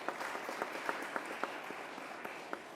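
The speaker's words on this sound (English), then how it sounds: "Let's give Mr. Phillips a round of applause." Applause from an audience at a governor's bill-signing event, a steady wash of many hands clapping at moderate distance with a few sharper individual claps standing out, fairly faint and continuous throughout.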